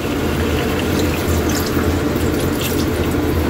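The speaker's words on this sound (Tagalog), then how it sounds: "Maglagay na tayo dito Kaylee ng kunting tubig lang" A little water is poured into a pot of cooking chicken inasal, giving a loud, continuous splashing and running sound close by, with no talking.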